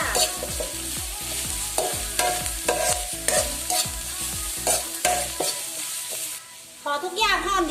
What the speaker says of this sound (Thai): แล้วก็ผัดให้ทุกอย่างหอมดีเลยจ้า